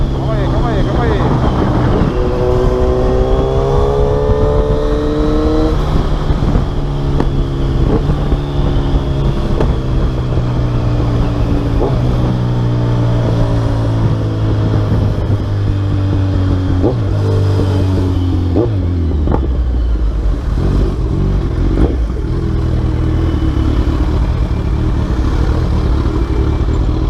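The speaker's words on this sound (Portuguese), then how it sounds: "Pilotar a moto com escape." A yellow Kawasaki Z1000 motorcycle with a full exhaust system is ridden through traffic, its loud, close engine revving and rising through the gears with a throaty roar, then dropping back between pulls.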